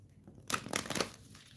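A deck of cards being shuffled, a brief crisp riffling burst of flicking paper that runs for about a second, close and fairly quiet.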